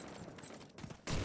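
Machine gun fire in a Call of Duty 2 match comes as a dense, clattering burst under game ambience, then a sudden louder volley at the very end.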